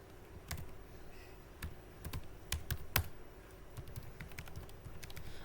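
Typing on a computer keyboard while entering a record into a Supabase database form, with quiet, irregular key clicks and a few sharper taps over faint background hum, no speech.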